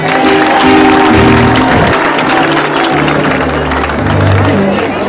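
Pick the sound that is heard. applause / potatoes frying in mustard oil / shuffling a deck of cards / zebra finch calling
applause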